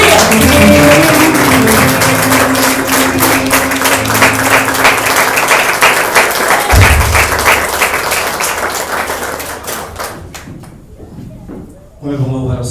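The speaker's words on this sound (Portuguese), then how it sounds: "você vai dar uma salva de palmas linda e maravilhosa do Senhor" A church congregation breaks into sustained applause during a worship service, dense hand clapping that fades gradually toward the end, with a thud and brief quieter moments near the close.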